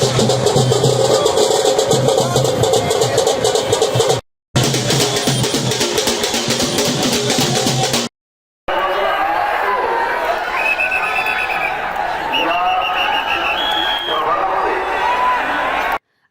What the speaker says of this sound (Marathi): विजयानंतर उमेदवारांच्या समर्थकांनी शहरात गुलाल उधळून जोरदार जल्लोष केला.